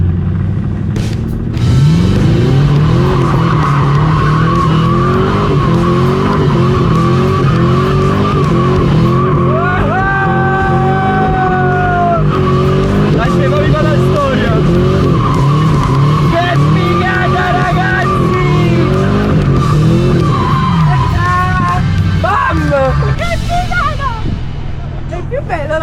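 A 2010 Chevrolet Camaro SS with a 435 hp V8 doing a burnout, engine roaring steadily while the tires screech and squeal loudly for the whole stretch, with people talking over it.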